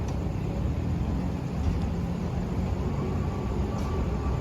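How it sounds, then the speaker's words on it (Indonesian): A yellow shunting train rolls past at a railway line, a steady low rumble of heavy wheels and engine close by, loud and continuous with no clear breaks. "ini ada langsiran"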